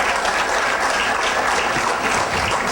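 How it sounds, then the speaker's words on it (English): Audience applause at a pageant competition, a dense, steady wash of many hands clapping at once, close and loud throughout with no talk over it. "let's give them a big round of applause."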